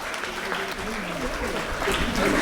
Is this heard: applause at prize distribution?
yes